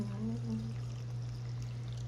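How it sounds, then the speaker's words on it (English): Tea pouring steadily into a cup, a soft continuous liquid stream close by over a low steady hum, with a gently rising tone in the first half second. "Look, pouring up some tea."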